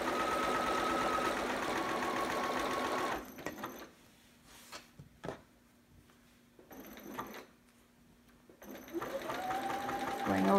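A home sewing machine stitches a quarter-inch seam along the edge of fabric for a bell sleeve romper. It runs in steady bursts, falls silent in between and starts up again, with a few soft clicks in the gaps.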